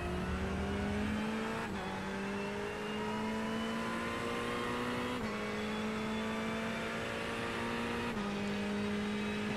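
Race car engines in the iRacing sim roar together at a race start, a loud sustained drone with engine pitch climbing in steps through gear shifts, no voices over it.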